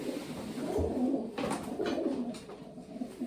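Pigeons coo softly nearby, a few low throaty calls repeating over a faint background murmur.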